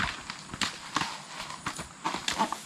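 Horse hooves clip-clop in a quick, uneven rhythm on hard ground, close by and fairly loud, with no talk over them.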